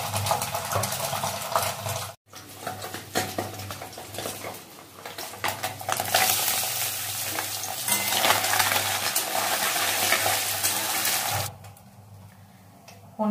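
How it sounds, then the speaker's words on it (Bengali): Paneer frying in white oil in a wok, a steady loud sizzle running throughout with occasional stirring clinks, a brief dropout near the start, with no talking. "কড়াইয়ে সাদা তেল দিয়েছি, পনিরটা ভাজবো।"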